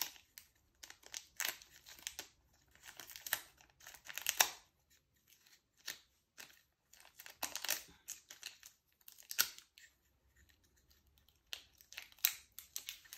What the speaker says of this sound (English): Tape it and then you peel it. So you can remove the paper that is sticking onto the surface.